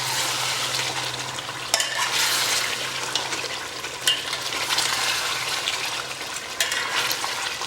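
Kadaknath chicken and masala sizzling in a pan, with a spoon scraping and stirring in occasional sharp clatters over a steady frying hiss, close and without talk.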